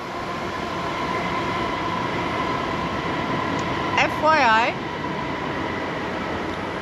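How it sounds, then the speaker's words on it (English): A train at a station next to a garden gives a steady, broad rumble, with a brief wavering squeal partway through, while a person talks close by. "I have chosen to record this in a garden with a train station right next to me."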